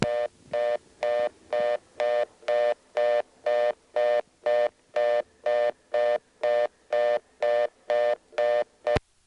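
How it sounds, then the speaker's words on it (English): Reorder tone from an ITT Pentaconta crossbar telephone switch in 1977 Asheboro, North Carolina: a fast, steady on-off dual-tone signal pulsing about twice per second, clear and alone with no talk. "that completed to the real reorder tone"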